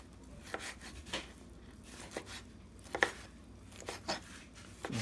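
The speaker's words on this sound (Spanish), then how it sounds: "Luego lo picamos en cuadritos." A knife chopping fish into small cubes for ceviche, firm irregular chops on a cutting board, close and distinct, roughly two per second, with no voices.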